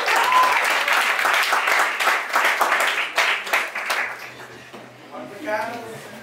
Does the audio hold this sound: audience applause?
yes